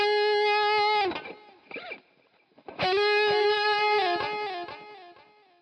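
A Valeton GP-150 multi-effects unit plays a sustained guitar note that cuts off, a short scratchy flurry follows, then another long, thick distorted chord rings out and slowly fades.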